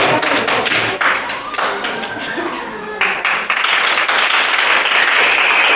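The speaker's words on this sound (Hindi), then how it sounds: "एक बार जोरदार तालियां" An audience at an anniversary ceremony breaks into loud applause for an honoree, vigorous clapping with a few thumps and a shift in intensity midway, with voices mixed in beneath.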